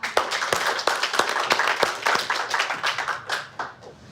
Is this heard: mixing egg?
no